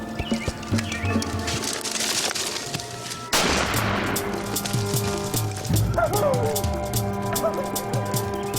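A single sharp gunshot cracks at close range, followed by outdoor ambience with a dog barking and faint voices in the background.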